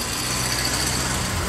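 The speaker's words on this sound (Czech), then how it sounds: "Ten zvuk motoru prostě nádhera." A vintage car engine runs steadily at an oldtimer rally elegance contest, a loud, continuous rumbling drone with no voices.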